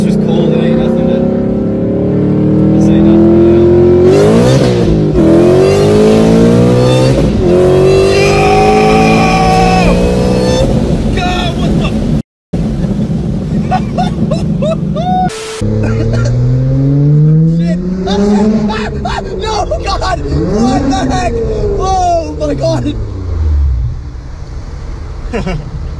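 Car revving and accelerating hard from a launch-control start, a loud close engine note climbing and dropping through gear changes over a long stretch, with excited voices talking and shouting over it.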